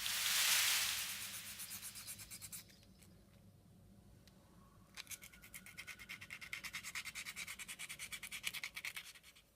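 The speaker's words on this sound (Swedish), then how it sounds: "sedan tar man ett sandpapper eller en smärgelduk för metall och slipar av ytan" Sandpaper on a metal plate, scratchy abrasive rubbing close by, starting with a loud swipe then settling into fast rhythmic back-and-forth strokes that grow more regular.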